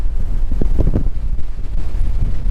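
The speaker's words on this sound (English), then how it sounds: "We're up on top. It's a bit breezy." Strong wind buffets the microphone on Skiddaw summit in the Lake District, a loud continuous low rumble with gusty surges throughout.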